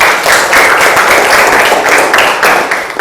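A classroom of students applauds a presenting group, dense loud clapping from many hands sustained evenly for a few seconds with a slight pulsing rhythm and no talk.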